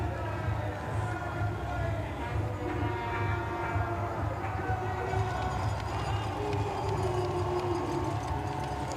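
Crowd noise from spectators lining the finish of the WMTRC 2023 trail long race as a runner comes in, a steady dense roar and babble of cheering held at an even level for the whole stretch.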